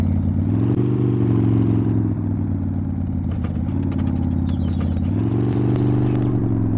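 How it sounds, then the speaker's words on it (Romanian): A loud video game car engine hums and revs steadily, with a low droning tone that rises and dips, plus faint clattering on top. "că s-aude tare motorul"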